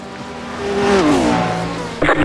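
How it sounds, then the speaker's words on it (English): A GT3 race car roars past close on the right during the Petit Le Mans race at Road Atlanta, its engine pitch rising and then sweeping down as it passes, followed by a sharp clattering burst. "Car on your right."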